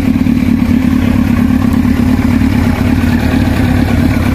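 A 1999 Yamaha R1 motorcycle with around 88,000 km sits running nearby, its engine throbbing loudly and steadily at a constant speed with a dense mechanical clatter and no voices.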